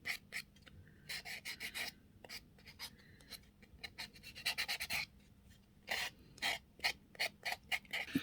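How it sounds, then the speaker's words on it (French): A nail file rasping across the surface of fingernails in quick repeated strokes, close and fairly quiet, with short bursts separated by brief pauses and no talking. "si je lime la surface, ça enlève tout"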